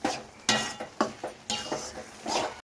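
A ladle clinks and scrapes against a pan as gongura leaves are stirred in oil, a series of about six sharp metallic knocks at roughly half-second intervals, close and clear.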